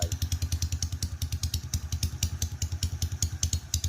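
A motorcycle with a stock engine, a project bike puffing smoke from its exhaust, runs close by at a steady idle, its rapid, even thumping pulses carrying a light mechanical clatter.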